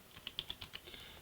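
A computer keyboard clicks under a brief burst of about seven quick, faint keystrokes, with no voices heard.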